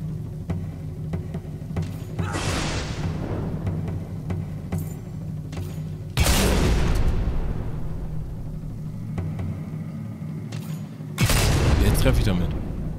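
Gunfire in the video game Fable 2: three heavy, booming shots roughly five seconds apart, each with a long ringing decay over a steady game background.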